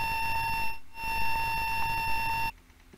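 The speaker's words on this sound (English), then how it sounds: "It just made a horrible noise and alarmed at me because I was putting money in too quick." A fruit machine sounds a shrill electronic alarm tone, two long steady beeps separated by a brief gap, loud and close, triggered by coins fed in too quickly, with faint background hum after it cuts off.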